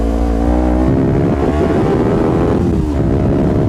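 A Kawasaki Ninja 250 FI motorcycle engine revs steadily in second gear, a loud, close, continuous buzzing drone with harmonic whine that rises and falls slightly, with no talk.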